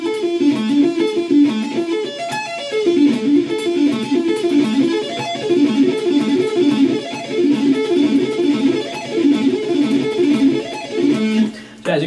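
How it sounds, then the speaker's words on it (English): Electric guitar sweep-picking arpeggios, the lowest note picked repeatedly before each run sweeps up and back down, in a steady cycling pattern played clean and alone for about twelve seconds. "I was repeating the lowest note several times, then going all the way up the arpeggio, going all the way back down the arpeggio"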